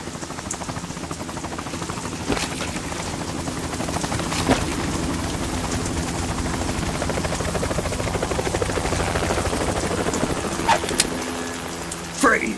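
In the video game Metal Gear Solid 2, a helicopter's rotor chops steadily and loudly with an engine drone, sustained throughout with a few sharp impacts mixed in.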